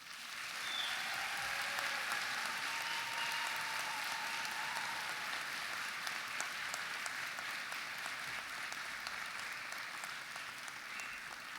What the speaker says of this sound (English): please give this incredible group of people a boisterous round of applause